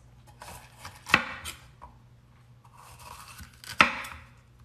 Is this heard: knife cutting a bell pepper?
yes